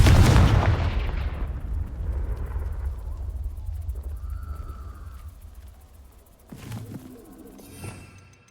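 A Confringo spell explosion in the wizarding game Hogwarts Legacy: a loud, close blast with a booming rumble that fades slowly over several seconds, followed by a smaller secondary impact and some crackling debris.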